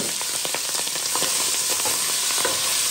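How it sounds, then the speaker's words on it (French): Boiled smoked chicken frying in hot oil in a pot, a loud, steady sizzle with crackling pops running throughout, close up and alone. "Je mets pour frire"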